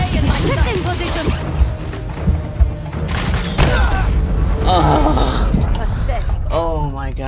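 Barrage of gunfire and booms in the video game Marvel's Spider-Man 2, dense bursts and thuds layered with game voices and grunts under a loud, continuous action mix.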